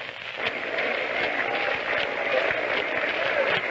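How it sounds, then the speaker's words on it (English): A crowd at a 1934 Yankees–Tigers baseball game claps half-heartedly, producing a steady, distant patter of scattered applause through a thin old radio broadcast. "The crowd is beginning a sort of a half-hearted hand clapping"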